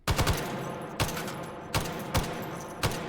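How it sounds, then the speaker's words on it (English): An M60 light machine gun fires full-auto in the H3VR virtual reality shooter, with several short rattling bursts, each opening on a sharp crack, over a steady roar. "it feels like the same rate of fire as well"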